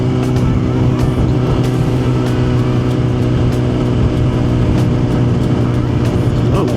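A car cruising at 40 miles an hour down a long road, heard from inside as a loud, steady engine drone and road rumble that holds constant with no voices.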